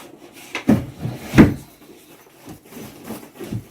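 Drawer being opened and searched, heard as two loud wooden bumps, then softer rummaging knocks and rustles, close and without talk.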